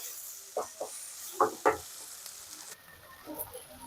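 Achari spice masala for chicken is stirred in a hot pan, giving soft sizzling with several short scraping strokes from a utensil and then a quieter steady hiss, all close up with no talking.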